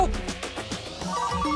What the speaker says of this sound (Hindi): किसका है? वाइफ का फोन है सर,